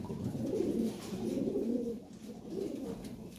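Lahori pigeons coo in low, repeated rounded calls close by, several birds overlapping steadily with no talk.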